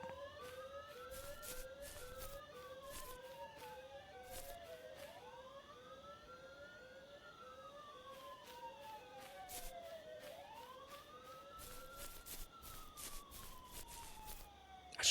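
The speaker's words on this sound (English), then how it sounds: "I'm kind of surprised the alarm went off when I've killed the power." A building alarm in Thief Simulator wails in rising and falling electronic sweeps alongside a rapid repeating beep, continuous and fairly faint, with soft clicks and bumps scattered through.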